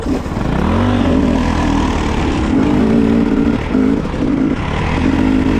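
A KOVE 450 Rally enduro motorcycle engine drones and revs continuously while riding in sand, rising in pitch early then holding a loud, rough note with brief dips.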